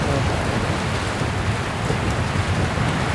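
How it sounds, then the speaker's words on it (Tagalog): Downpour on a Benguet mountain campsite, thick constant roar of heavy rain striking surfaces, loud and close, with a faint low rumble beneath and no talking. "Grabe lakas ng ulan."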